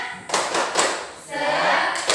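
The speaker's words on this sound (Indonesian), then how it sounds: "Kita tepuk semangat." A primary-school class performs a rhythmic spirit clap in an Indonesian classroom, with loud bursts of many hands in a patterned beat and children's voices chanting along.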